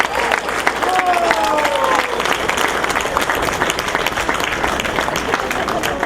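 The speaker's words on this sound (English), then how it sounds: "Go ahead and clap." An audience applauds steadily at an evening groundbreaking ceremony for a community playground in Kenosha, a continuous wash of clapping that holds even throughout, with faint murmurs mixed in.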